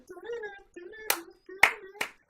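A few sharp hand claps from a song, spaced about half a second apart, ringing out between bits of a voice, close and crisp.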